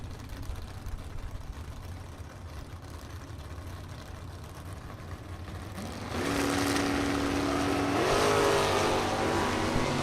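A 1975 Chevrolet Camaro hot rod with a vinyl top and other cars at a bracket drag racing event: a distant engine rumble that swells louder halfway through as revs climb.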